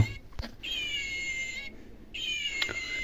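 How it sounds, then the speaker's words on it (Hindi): A squeezed toy cat gives two electronic meows, one long and one shorter after a brief pause, with a couple of soft handling clicks close by. "यहाँ पे ना जो ये बिल्ली है ये आवाज़ करते हैं ऐसे दबाने पे, देखो।"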